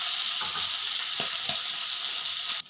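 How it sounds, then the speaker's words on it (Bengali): Dried fish (shutki) rubbed with salt and turmeric fries in hot oil, giving a loud, close, continuous hiss and crackle with a few soft pops. The sound drops off abruptly at the very end. "তেলটা গরম হচ্ছে, এখন শুটকিগুলো দিয়ে দেব। ভালো থেকে লাল করে ভেজে"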